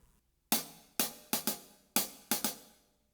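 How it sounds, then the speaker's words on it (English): Closed hi-hat cymbal playing a jazz ride pattern: crisp, bright ticks in a swung rhythm, with single strokes and quick pairs, about seven hits, close and alone after a brief quiet start. "If you play it closed, it sounds like this."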